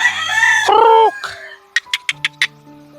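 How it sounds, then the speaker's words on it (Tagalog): A rooster crows loudly up close, a long drawn-out call, followed by several short, sharp clucks or knocks in quick succession. "Tawag ng manok."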